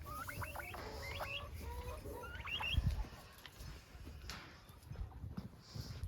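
Chickens going to roost in the evening make a few soft, scattered clucks and peeps, faint and close, over a low background rumble and some rustling.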